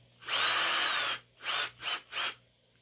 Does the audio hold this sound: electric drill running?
yes